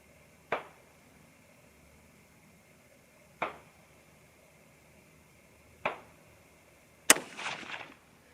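Four sharp 6mm ARC rifle shots fired at a range, each a loud crack spaced a few seconds apart, the last followed by a brief rattling tail; no talking.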